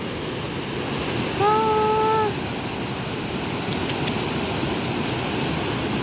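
Storm floodwater rushes in a strong current near an irrigation weir in Laos, a steady, loud roar of water with a brief whistling tone partway through.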